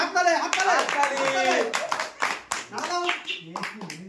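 A child claps hands several times in a short burst during a playful comedy game, mixed in with lively talking voices throughout.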